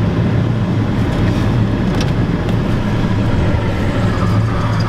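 A Ford F250 pickup with a 7.3 IDI diesel engine idling just after a cold start, giving a loud, steady low rumble with a constant roar, close up and without talking.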